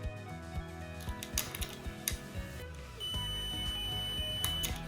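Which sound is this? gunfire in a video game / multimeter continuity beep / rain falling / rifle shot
multimeter continuity beep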